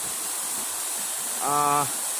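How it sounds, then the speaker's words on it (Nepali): A waterfall rushes in a steady, loud wash of water, briefly joined by a short tonal voice near the end. "यहाँहरूमा म यो सुन्दर झरना"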